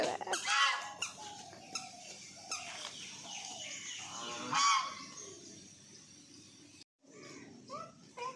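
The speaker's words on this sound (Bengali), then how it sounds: "কটা দেখেছো, কটা হাঁস।" Ducks honk and squawk in scattered, raspy calls at moderate distance, several birds calling one after another with brief quiet gaps.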